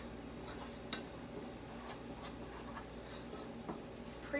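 A spoon scrapes and taps around a bowl while apple nut bread batter with a dash of nutmeg is mixed. The strokes are quiet and close, with a few sharper clinks against the bowl.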